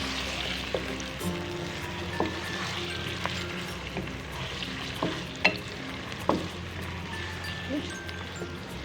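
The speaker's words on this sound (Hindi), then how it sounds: "अब इसे अच्छे से फ्राई करते हैं।" Bone-in beef frying in a hot pan for beef karahi, with a steady oily sizzle and scattered scraping knocks from a spoon stirring the meat, close up and continuous.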